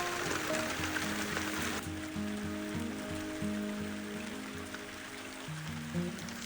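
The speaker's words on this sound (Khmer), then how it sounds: "សង្ឃឹមថាបាត់ភ្លៀងក្នុងពេលឆាប់ៗ" Steady rain patters on a tent at a solo camp in the mountains of Mondulkiri province, Cambodia, a dense, even drumming of drops heard close by and unbroken throughout.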